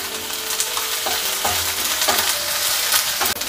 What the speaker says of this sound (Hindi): हल्का सा भून लेंगे क्योंकि इसके जो कच्चापन निकल जाएंगे।